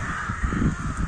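Rooks caw in a city park, harsh repeated calls close by that overlap in a noisy chorus.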